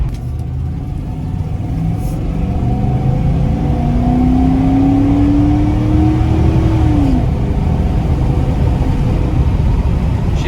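A pickup truck drives along with a loud, steady engine rumble and road noise, and a rising engine tone climbs as it accelerates, then drops off.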